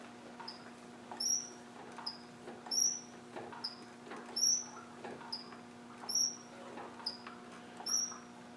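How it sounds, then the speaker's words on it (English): A Land Rover 300Tdi engine idles with a faint steady hum while a high, thin squeak repeats about once per second in a regular rhythm. "I find out where that squeak's coming from"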